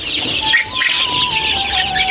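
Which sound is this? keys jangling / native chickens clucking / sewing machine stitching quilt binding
native chickens clucking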